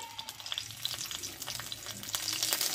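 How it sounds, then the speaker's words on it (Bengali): Lentil bori sizzles steadily in hot white oil in a kadai, a close, continuous crackling fry with faint stirring and no talking. "বড়িটা একটু লাল লাল করে ভেজে নেবো আমি।"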